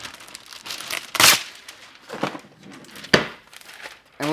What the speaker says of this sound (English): we're gonna grab another piece of parchment paper here